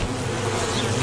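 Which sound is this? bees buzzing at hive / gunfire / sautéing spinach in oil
bees buzzing at hive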